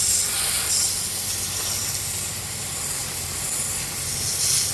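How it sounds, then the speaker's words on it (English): Super Clean degreaser sprays in a steady, loud hiss onto marine grease on a boat, continuous and close, with a low rumble underneath and no voices. "We're going to spray it off."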